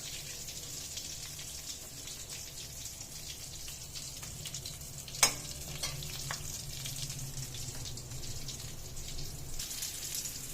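Snacks sizzle steadily in a pan over a low flame, a soft continuous frying hiss with occasional crackles and one brief sharp pop.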